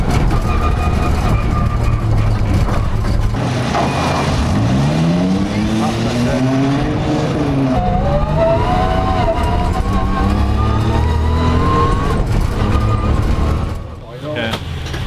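A rally car on its first stage shakedown after a gearbox and suspension change, engine loud and close, revving up and down through long gears with rising and falling pitch, while people talk over the engine noise.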